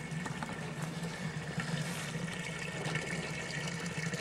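Water running from a public drinking fountain: a continuous close splashing and gurgling flow, steady and fairly loud, with no talk over it.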